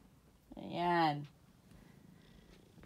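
A pet cat makes a brief voiced sound close to the microphone, with a faint low purr before and after it.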